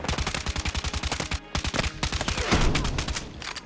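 UMG 40 submachine gun firing in a video game, rapid close bursts of loud evenly spaced shots with one short pause, ending in a blurred crash of impacts.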